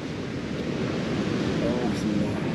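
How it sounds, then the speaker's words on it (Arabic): Ocean waves break and wash on the shore at Cap Barbas in a steady, broad roar with wind noise, loud and continuous, with no talk over it. "اليوم كاين الموج كما كتشوفو الى العود"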